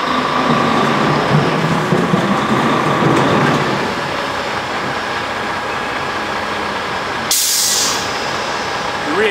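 A truck backs up with its Antares Rite-Slide trailer axle air pin locked, giving a steady mechanical rumble and grinding. About two-thirds of the way through, a loud hiss of released air cuts in.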